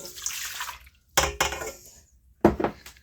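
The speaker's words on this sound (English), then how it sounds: "I'm going to add 1 cup of warm water" Warm water pours into yeast for dough in a short splash, stops, then comes back in a few brief gushes and splashes nearby.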